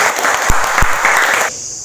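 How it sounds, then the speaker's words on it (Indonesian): A classroom of students claps for a group, loud and close, with a couple of sharp nearby claps, stopping abruptly after about one and a half seconds. "Beri tepuk tangan untuk kelompok 2."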